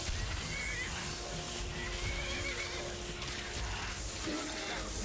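In a video game, a horse whinnies and neighs over a busy, continuous wash of game sound, the cries fairly prominent and near.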